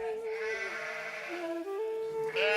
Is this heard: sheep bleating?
yes